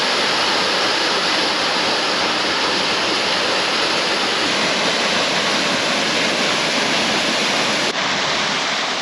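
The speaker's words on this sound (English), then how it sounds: "I'm at Seneca Creek Falls." Seneca Creek Falls in the West Virginia forest roars as a steady, dense wash of falling water, loud and close, unbroken for the whole stretch with no voices.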